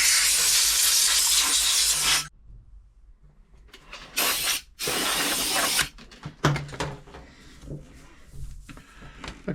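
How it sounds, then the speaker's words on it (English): Air compressor nozzle blowing dust out of an Elna Club Computer 500 sewing machine during servicing: a loud steady hiss for two seconds, then shorter blasts and sputtering puffs with quiet gaps between them. "let me give it a little blow. The compressor might kick in."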